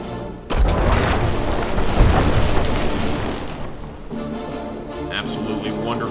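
Cannons firing in the American Civil War naval strategy video game Ironclad: a sudden loud boom opens a heavy rumbling roar of broadside fire that fades into softer scattered reports.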